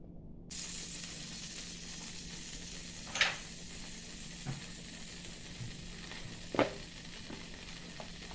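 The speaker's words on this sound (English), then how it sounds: "I'm going to add a small amount of oil and some butter." Oil and butter sizzle in a pan on the stove for a roux, a steady, even hiss that runs throughout, with a few small pops and light clicks breaking through.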